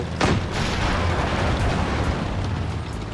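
A tank being hit and destroyed in World of Tanks, with a sharp explosive burst right at the start followed by a dense, rumbling wash of battle noise that carries on for a few seconds.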